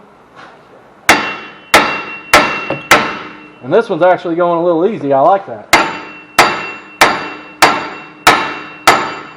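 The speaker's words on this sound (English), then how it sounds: "So you find the biggest hammer you own," Heavy hammer blows ring out on a rusted Taurus car wheel hub, about a dozen sharp clanging strikes in a steady rhythm, broken midway by a grinding, squealing stretch; someone speaks briefly.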